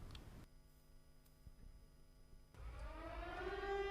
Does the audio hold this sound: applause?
no